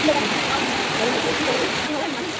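Steady rain falling outdoors, a dense broadband hiss that runs evenly and fairly loud through the whole stretch with no breaks, and no voices over it.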